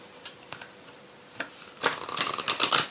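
Oracle cards are shuffled by hand for a tarot reading: a few soft, scattered flicks give way to a dense, close burst of riffling and card slaps at the end.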